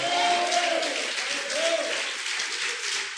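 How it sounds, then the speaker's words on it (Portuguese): A church congregation applauds in a steady wash of clapping that runs throughout, moderately loud, with a voice speaking over it. "Louve a Deus, aplauda ao Senhor."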